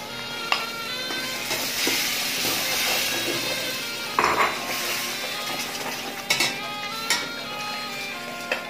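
Tomatoes frying in a pan while cooking dhaba-style cabbage sabzi, a steady close sizzle with occasional stirring clinks and scrapes against the pan, no talking.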